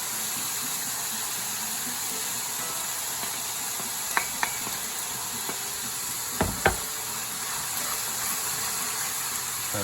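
Cooked pasta with basil pesto is stirred in a pot with the heat off, a steady soft hiss broken by a few sharp clicks and knocks of the spoon against the pot.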